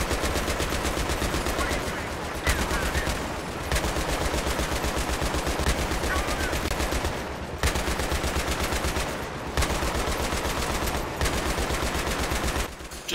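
Sustained automatic gunfire from Battlefield 3 co-op play, rapid continuous bursts broken by a few short pauses, loud and dense throughout.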